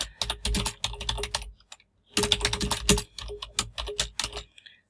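Someone types a password on a computer keyboard up close, with rapid clicking keystrokes in two bursts separated by a short pause. No talk is heard.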